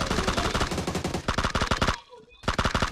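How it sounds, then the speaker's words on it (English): Rapid automatic gunfire from a video game shootout rattles in dense bursts, loud and close, breaking off briefly near the end before another burst resumes. "they're shooting it out on top of here?"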